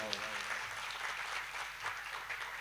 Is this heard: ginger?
no